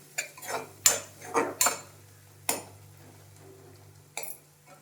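A utensil scrapes and clinks against a metal pan, stirring masala for semiya, in several uneven strokes, with pauses between them and a soft sizzle in the background.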